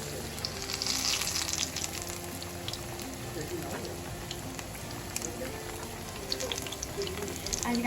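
Chicken pieces fry in hot oil in a pan, a steady crackling sizzle with scattered pops that runs the whole time beneath faint background talk.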